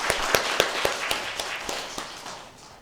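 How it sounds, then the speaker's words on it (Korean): A church congregation at a Sunday morning service applauds in a rhythmic burst of sharp claps, loud at first and fading steadily toward the end. "하나님 앞에 박수로 다시 한번 영광 올리겠습니다"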